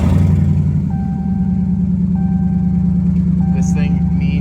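A stock 2018 Dodge Challenger SRT Demon V8 roars to life with a push-button start and settles into a loud, heavy, rumbling idle that holds steady throughout.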